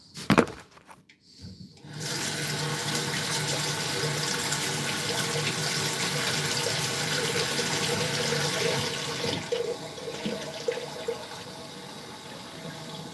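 A water bottle is refilled from a tap during home defense training, with a steady, loud rush of running water lasting about ten seconds after a few brief knocks, then tapering into uneven splashing as the flow slows.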